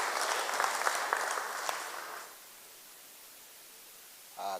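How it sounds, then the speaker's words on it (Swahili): Church congregation at a Kikuyu service claps in a brisk burst of applause for a little over two seconds, then falls quiet with only faint room hiss and a short noise at the end. "Pigiwa makofi."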